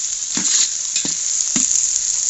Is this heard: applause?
no